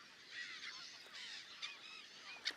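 A flock of wild geese in Portugal's Lisbon and Tagus Valley region honks repeatedly at a distance, their calls overlapping in a faint, busy chorus.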